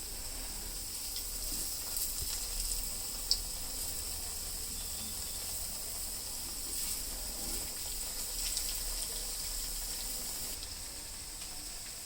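Garelu, lentil fritters, frying in hot oil: a steady close hiss and bubbling sizzle running throughout, moderately quiet and even, with a faint clink partway through and no talking.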